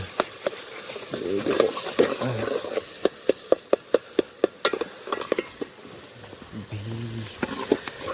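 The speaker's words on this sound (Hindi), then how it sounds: "यहाँ देख सकते हो ब्राउन वगैरह हो गए थे प्याज, और टमाटर डाल दिए मैंने" Onions and tomatoes fry in a pan outdoors with a steady sizzle, broken by sharp utensil taps and scrapes against the pan while a voice talks intermittently.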